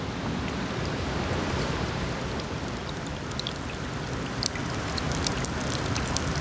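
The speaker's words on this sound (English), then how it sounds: "you can also hear the water rolling off the roof and hitting the snow on the ground" Rain water runs off a roof onto the snow below, a steady dense splashing and pattering with occasional sharper drips, continuous and close, with no voices.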